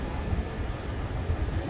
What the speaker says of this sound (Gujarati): હવે ટ્રેન આવી રહી છે.